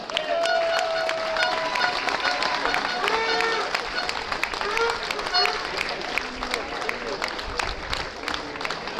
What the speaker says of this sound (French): Encore une fois, applaudissements pour les bénévoles.